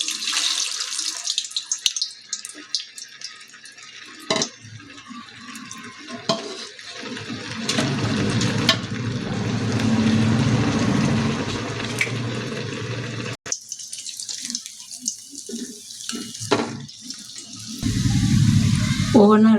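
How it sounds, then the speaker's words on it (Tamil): Methu vadai fry in hot oil, giving a broad sizzling hiss with bursts and splashes as the batter drops in, fairly loud and close, with brief talking and kitchen clatter around it. "இப்போ வடையை வந்து வறுக்க ஸ்டார்ட் பண்ணலாம்"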